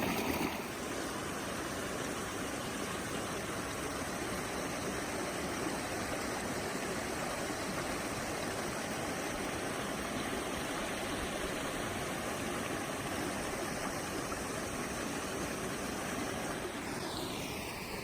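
A clear mountain stream along a trail rushes in a steady, broadband wash of flowing water, constant and fairly loud from start to finish, with no voices over it.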